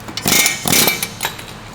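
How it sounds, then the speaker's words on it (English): An air hammer pops out a front ball joint on a 2004 VW Golf, giving a few sharp, loud bursts of hammering with brief gaps between them. "A little pop with the air hammer."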